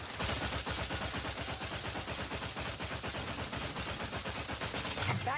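Rapid, evenly spaced bursts of weapon fire from a stun weapon in The Outer Worlds 2, a sci-fi video game, loud and continuous throughout with no pause between shots.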